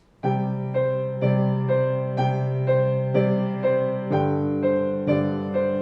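A piano exercise has two right-hand notes for each left-hand chord, struck in an even, regular pulse, loud and close with no talking, the harmony changing partway through.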